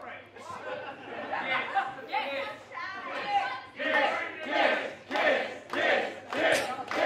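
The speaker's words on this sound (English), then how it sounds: "the crowd is chanting for kisses." A wrestling crowd at a deathmatch promotion chants in loud rhythmic bursts, many voices rising and falling together in repeated waves, with scattered shouts and laughter between them.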